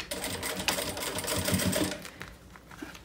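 A sewing machine stitching along the zipper edge of a fabric pouch, its needle chattering in a quick, steady run close by, then slowing and stopping near the end.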